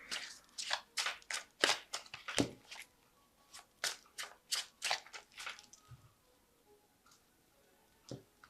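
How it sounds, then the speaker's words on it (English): Repeated riffling and snapping of a tarot deck being shuffled, close and crisp in short bursts, then a pause and a final couple of quieter flicks. "So I'm just going to shuffle this deck."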